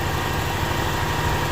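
The freshly rebuilt engine of a Honda Civic EF sedan idles with a steady, even rumble and a dense low hum, close and continuous with no voices.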